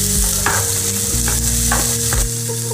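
White chickpea sundal stirred in a frying pan, a spoon scraping and turning the chickpeas in rhythmic strokes over a steady close sizzle, with no talking.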